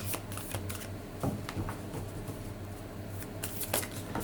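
Spirit Animal Oracle cards are shuffled close up in quick, papery riffles and flicks with soft bursts repeating throughout.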